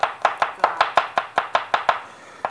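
Knife chopping garlic cloves on a board, a steady run of about ten crisp, evenly spaced close chops followed by a pause and one final chop, with no voices.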